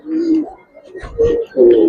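Giribaz pigeons coo close by in three short, throaty bursts with brief pauses between them.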